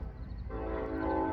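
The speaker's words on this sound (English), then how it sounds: "there's a train like a mile away." A train horn blows about a mile off, a steady sustained tonal blast rising in over a low rail rumble, faint and distant.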